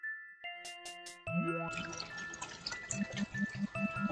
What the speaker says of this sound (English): The sound of water is so relaxing.